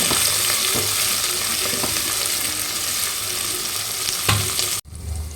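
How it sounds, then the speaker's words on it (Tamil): Onions and tomatoes sauté in a pan, giving a dense, steady sizzle with a few stirring scrapes. The sound is close and loud, has no talking, and cuts off abruptly near the end. "சேர்த்து தக்காளியை நல்லா வதங்கட்டும்"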